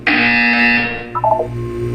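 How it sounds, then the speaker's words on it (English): A single long electronic buzzer from the Portal 2 video game sounds loud and steady for about a second, then drops into a short run of quieter stepped electronic tones over a low hum. "You will hear a buzzer."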